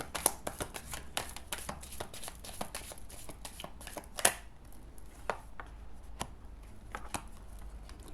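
Tarot cards shuffled and drawn by hand in a quiet room, a run of quick crisp riffles and snaps with uneven rhythm, close and fairly soft, no voices over them.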